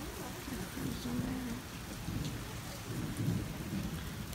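Steady rain pours during a storm while low thunder rumbles in the background, with a soft voice murmuring faintly under the noise.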